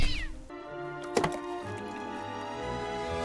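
A cat gives a short meow at the start, followed by a sharp thunk and a sustained tonal hum with faint background sounds.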